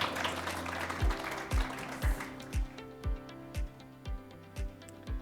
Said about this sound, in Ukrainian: А ви аплодуйте, будь ласка, трошки збадьоримося.